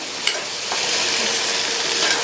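A spiced pachadi mixture sizzles and crackles in a hot frying pan while a utensil scrapes and stirs through it, a steady close-up frying sound without talking.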